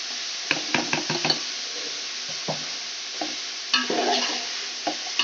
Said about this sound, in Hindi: अब इसमें हम शिमला मिर्च शामिल कर रहे हैं। साथ में बंद गोभी शामिल कर देंगे।